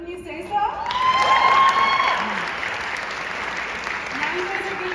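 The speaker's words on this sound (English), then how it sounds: "Now you guys are getting the hang of the cheering and clapping thing." A pageant audience at Miss Washington's Teen 2022 bursts into applause and cheering, swelling loud within a second, then settling into steadier clapping with scattered whoops.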